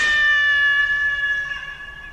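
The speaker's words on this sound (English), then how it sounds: "free-range kitty cat" A cat gives a single drawn-out meow, close and clear, with a steady tone that fades out gently at the end, and no other sounds around it.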